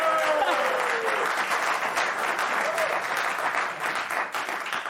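A studio audience on a late-night talk show breaks into loud, sustained applause that fills the whole stretch, dense and even, with a voice briefly audible at the start.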